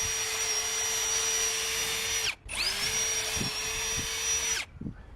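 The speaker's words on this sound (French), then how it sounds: "Je fais des avant-trous." A power drill boring pilot holes into wooden crossbeams joined with half-lap joints for a carport, two long steady high whines separated by a brief stop, then winding down to a few light knocks.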